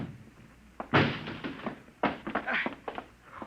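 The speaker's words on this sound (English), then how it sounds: "Break down the door." A door is being broken down in a radio drama: two bursts of heavy blows and crashes, the second followed by a run of rapid thuds and splintering knocks, close and loud over a quiet room.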